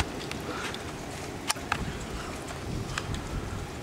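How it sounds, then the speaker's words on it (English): Strong wind blows steadily outdoors on a stormy street, a constant broadband rush with a couple of brief gusty bumps, no talking. "Listen to that wind."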